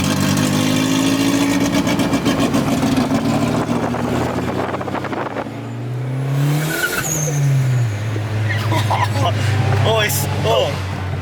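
A turbocharged Ford Focus revs hard and loud from inside the car, its engine droning, then surging and falling, with fluttering turbo chatter between pulls. People talk and exclaim over the engine noise.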